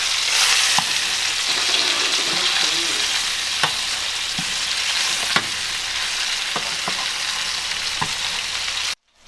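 Freshly caught fish fry in a pan with a steady loud sizzle and crackle. Occasional clicks and scrapes of handling rise above it, and the sound then cuts off abruptly.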